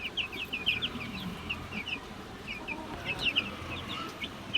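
Chickens and chicks on a small farm cluck and peep continuously, with repeated chirps and clucks close by over a steady background of farmyard noise.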